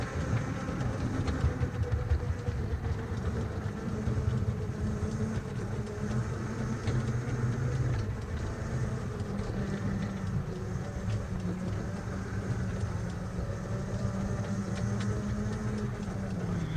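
A small 7 1/4 inch gauge garden railway train hums and rumbles steadily nearby, with a droning motor tone and faint rhythmic clicking of wheels on track, no voices.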